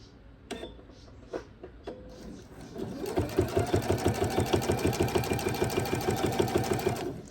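A sewing machine stitches binding onto a fabric edge, a few separate clicks and thumps giving way to a fast, steady mechanical chatter of needle strokes that carries on close by.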